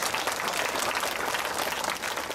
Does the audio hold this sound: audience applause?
yes